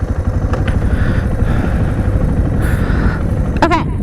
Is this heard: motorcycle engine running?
yes